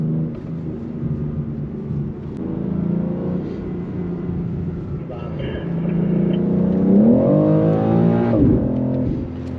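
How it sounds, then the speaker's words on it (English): BMW X4 M Competition SUV exhaust burbling and rumbling from inside the cabin, a steady low engine drone rising into a louder rev near the end, with someone talking over it. "It's got some burbles."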